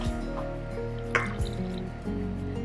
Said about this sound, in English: I'm gonna grab my water, half a cup of warm water